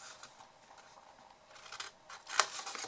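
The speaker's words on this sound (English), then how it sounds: "So we need to cut away this corner here." Scissors cut a corner off a paper matchbox with a soft papery rustle, then a few crisp snips, the sharpest near the end, heard up close and alone.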